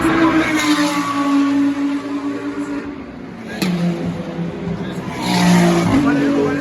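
Race cars at the 24 Hours of Spa roar past in a loud, continuous pass with engine and tyre noise swelling at the start and again near the end, mixed with steady trackside ambience.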